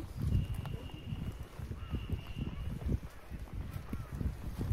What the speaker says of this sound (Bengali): চলেছি ঘোড়ার পিঠে